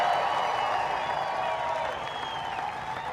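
A large crowd at a fairgrounds rally applauding and cheering, a dense sustained wash of clapping that eases slightly toward the end, with some voices mixed in.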